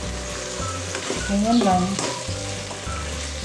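Potatoes and ham, with onion, are stirred and fried in a pan over medium heat: a steady, close sizzle with scraping stirs, while someone briefly speaks over it.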